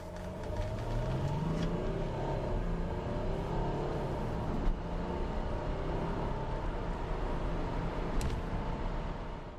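Mercedes W212 E-Class accelerating from 0 to 100 km/h, heard from inside as a steady engine drone that climbs through the gears with brief shift pauses, continuous and moderately loud, without talking.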